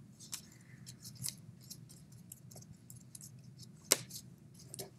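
Scissors snip through paper while a collage is cut out, giving a few short, crisp clicks spread across a quiet room with one sharper snip standing out.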